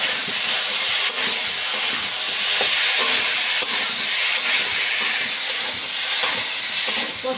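Taro (arbi) pieces being sautéed with spices in a pan, a steady close sizzle and hiss broken by the irregular scrape and clack of a spatula stirring, no voices.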